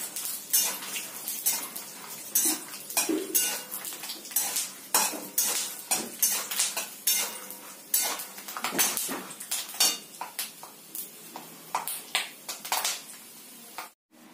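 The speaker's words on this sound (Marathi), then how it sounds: "तेलामध्येच आपण शेंगदाण्यांना तळून घेणार आहोत छान असं ब्राऊन रंगावर" Peanuts frying in oil in a pan for kande pohe are stirred briskly, giving repeated close metallic scrapes and clinks of a utensil against the pan in an irregular rhythm over a soft sizzle.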